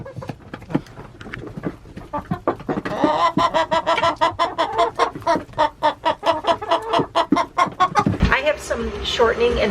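Chickens clucking busily up close on a Wisconsin farm, a dense stream of short repeated clucks and murmurs that grows livelier midway.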